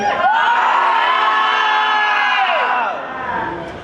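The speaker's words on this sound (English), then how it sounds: "Let's do a collective primal scream right now on the count of three." A comedy club audience lets out a collective primal scream, a loud sustained crowd roar of overlapping shouts lasting about three seconds before fading.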